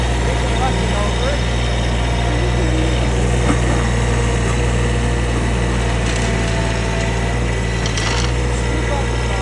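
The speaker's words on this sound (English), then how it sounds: "we're going to rev the engine up" The engine of a landscaping machine revs up while rock is being scooped for a rock and mulch install. It runs as a loud, close, steady drone for the whole stretch.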